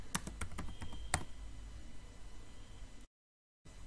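Quick taps on a computer keyboard typing a search query, a rapid run of close clicks over faint hiss, then a pause and a brief dropout.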